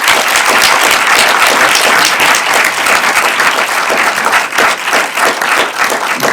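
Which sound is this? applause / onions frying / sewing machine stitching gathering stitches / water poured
applause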